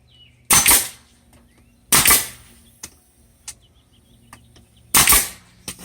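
A nail gun fires three sharp, loud shots at roughly even intervals while fastening a piece into a rotted window sill, with faint small taps in the quiet gaps.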